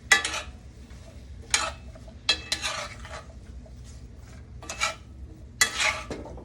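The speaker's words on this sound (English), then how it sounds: "I'm going to take my spoon. I'm going to go ahead and stir it." A spoon stirring dry Italian herbs in a pan, several separate scraping, clinking strokes in bursts with quiet pauses between, close and fairly soft, no talking.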